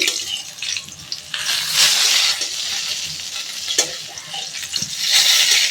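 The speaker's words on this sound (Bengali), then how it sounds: "বেগুন ভাজা বসিয়েছি" Steady sizzling of eggplant frying in a pan, with occasional stirring scrapes and louder hissing swells.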